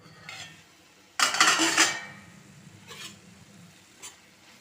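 Ingredients frying in a pan are stirred with a utensil, producing a loud burst of scraping and sizzling lasting under a second, then quieter scrapes and taps against the pan, close and without talk.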